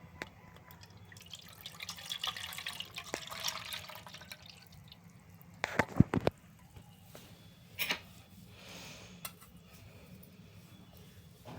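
Cooled milk is poured into a bowl with a faint liquid trickle and splash, a few louder clinks and spills midway, close and quiet with no talk.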